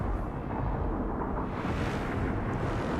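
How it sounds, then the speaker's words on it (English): Low, continuous rumbling thunder rolling through a rain-soaked race during qualifying in the Forza racing game, a steady broad roar with faint crackles and no clear single sharp crack. "Actually hearing a few little cracks of thunder here during the qualifying period"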